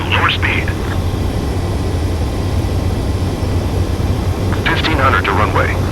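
A fighter jet on final approach to a runway in Ace Combat 7 Skies Unknown gives a steady, loud engine drone throughout, with short bursts of radio voice chatter over it.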